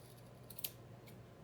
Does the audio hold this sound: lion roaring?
no